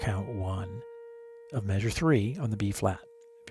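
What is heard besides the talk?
None of the usual background noises is heard.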